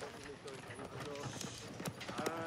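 Horse hooves clip-clopping in a Band of Brothers TV episode: a faint, uneven series of hoof knocks under quiet background voices.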